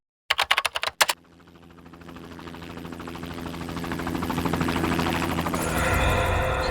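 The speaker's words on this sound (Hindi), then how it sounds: "सर, कहीं ये हेलीकॉप्टर की आवाज तो नहीं है?" A helicopter's rotor thumps in a few sharp beats, then a steady whirring chop swells and grows louder as the aircraft draws closer.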